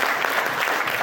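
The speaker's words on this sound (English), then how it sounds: "Can we get a round of applause for that?" Audience applause at a tabla percussion event, a dense burst of clapping from a crowd filling the brief moment.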